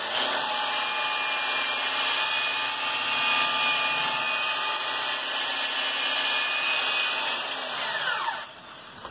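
Hand sanding wood with wall sandpaper, a steady continuous abrasive rasp that holds loud and even for about eight seconds before dropping off at the end, with no talking.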